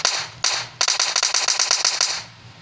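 Gunfire in the mobile battle royale game PUBG Mobile, several sharp cracks and then a rapid burst of about a dozen close, loud shots in quick rhythm before it stops.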